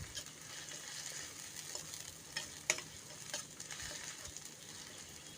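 Onions frying in oil in a pan over a low flame, stirred now and then: a steady, quiet sizzle with occasional soft scraping clicks.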